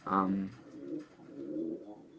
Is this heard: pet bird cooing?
yes